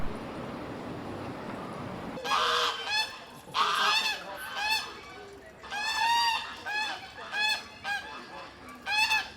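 Geese honking loudly and fighting in a garden, a burst of harsh overlapping honks after a brief quiet start, continuing in repeated squabbling calls close by.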